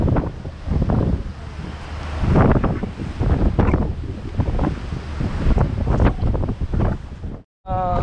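Strong, gusty wind buffets the microphone on the cold summit of Mount Fuji in Japan, a loud continuous roar with surging blasts throughout, briefly cutting out near the end.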